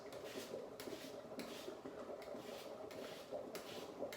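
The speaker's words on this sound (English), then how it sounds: "turn my zester over and scrape off some of that really good, fresh lemon zest" Zester scraping zest off a fresh lemon in a kitchen, a soft rhythmic rasping in repeated strokes about every second, close and faint with no talk.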